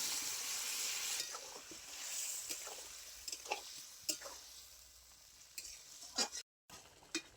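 Boiled pumpkin stirred into a sautéed spice paste in a pan, a faint crackling sizzle with soft wet stirring strokes and occasional light scrapes, then a brief gap before a last scrape.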